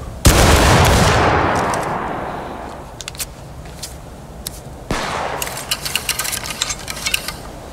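Musket volley from a line of soldiers in the video game War of Rights, one loud booming crash that rolls away, then a second ragged burst of scattered shots trailing off, with no speech over it.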